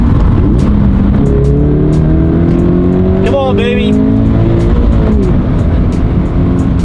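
A Subaru BRZ drift car accelerates loudly from inside the cabin, engine note rising steadily through the gears with a brief whine near the middle, while a person talks briefly over it.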